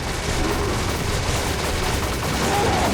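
Sustained gunfire in Resident Evil 5 roars loud and unbroken, a dense wall of shots with no pauses and no voices.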